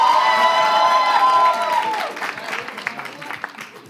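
Loud applause and cheering from a large concert-hall crowd at the Zénith de Paris, swelling at first and then thinning into scattered clapping and calls.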